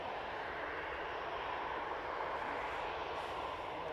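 KLM airliner at Manchester Airport, a steady broadband jet roar held at even level throughout, moderately distant with no voices.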